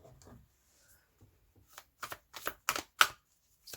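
Tarot cards are shuffled and drawn at close range: a few soft riffles, then a run of sharp flicks and snaps that grow louder toward the end, with no talk.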